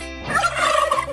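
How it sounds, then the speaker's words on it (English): A farm turkey gobbles in one rapid, warbling burst, close and moderately loud with no other sounds around it. "Turkey."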